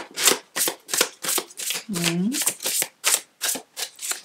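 A deck of oracle cards is shuffled in a steady run of crisp, rapid riffling bursts, close and fairly loud, with a brief voice sound partway through.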